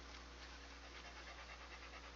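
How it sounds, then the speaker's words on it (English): A frightened dog pants steadily and close during a thunderstorm, its quick breaths rasping without a break over a low constant hum. "could you like go away and not be panting in my ear?"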